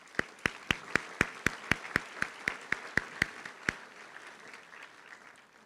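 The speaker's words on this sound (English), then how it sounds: "Please give them a round of applause." Audience at a graduation ceremony breaks into sharp, evenly spaced claps that ring out for about four seconds, then stop and leave quiet room tone.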